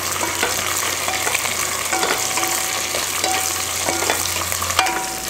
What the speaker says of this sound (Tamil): அதையும் சேர்த்து கொஞ்சம் வதக்கிக்கலாம்